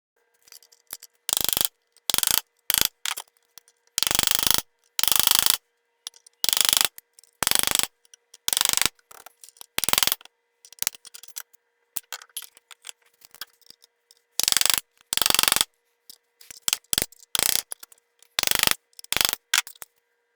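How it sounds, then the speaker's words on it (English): A bushing driver presses a bushing into a TH400 transmission lower planetary geartrain, giving a series of sharp, close metallic clicks and taps in irregular bursts separated by quiet pauses. "I got it started with the bushing driver. Just made sure it was started square. Now we'll press it in."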